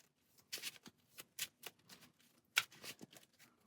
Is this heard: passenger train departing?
no